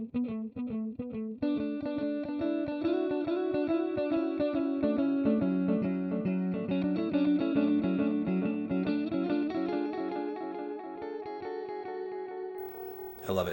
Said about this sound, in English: And as a result, we get almost like a dotted effect.